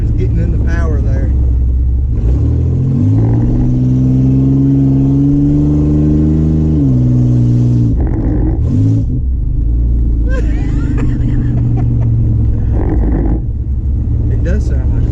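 A third-generation Chevrolet Camaro with a mini spool installed revs hard, its engine rising in a sustained rumbling climb, then dropping back and surging again with rough, tractor-like character, with people talking over parts of it.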